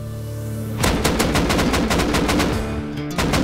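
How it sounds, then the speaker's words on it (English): Rapid automatic gunfire in the video game Rust rattles in a fast burst lasting a couple of seconds, loud and close, with another shot starting at the end. "there's more gunshots up there"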